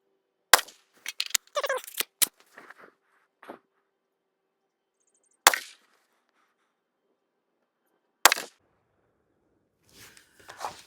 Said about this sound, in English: We'll fix that and we'll keep shooting.